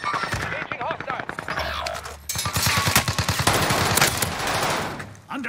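Tommy gun fire in Call of Duty: Warzone on Rebirth Island crackles in rapid automatic bursts with short pauses, mixed with game voice callouts and other effects.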